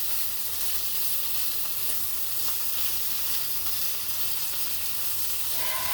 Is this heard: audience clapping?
no